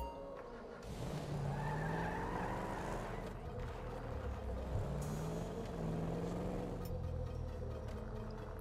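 A car engine revs and drones continuously with tire squeals and skidding in Grand Theft Auto V, loud and close, accompanied by talking throughout.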